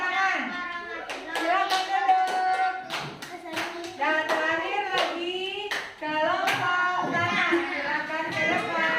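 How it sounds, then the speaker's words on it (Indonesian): Audience members clap in a loose burst while voices, including children's, speak and chatter over and between the claps nearby. "kita persilakan duduk dan beri tepuk tangan"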